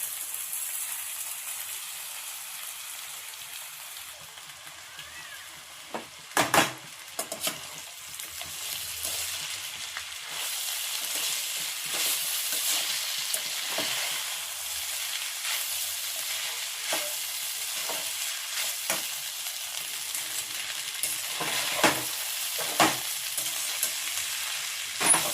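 Soaked flattened rice (avalakki) sizzles and fries in a pan with a steady hiss. A spoon stirs and scrapes through it at intervals. The sound is close and continuous, with no talking.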